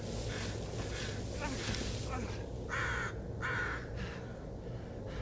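Crows caw in the Blair Witch video game, a few harsh, evenly spaced calls rising clearly above a low ambient drone of the game's woodland setting.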